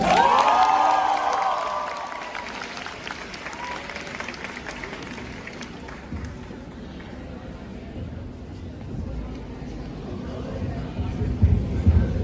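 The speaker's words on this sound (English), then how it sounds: "we request you to welcome on stage with a huge round of applause" Audience at a Model United Nations event in Dhaka applauds as a guest speaker is welcomed on stage, loud clapping and cheering at first that fades into softer scattered claps and crowd murmur with some talk.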